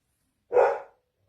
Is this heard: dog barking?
yes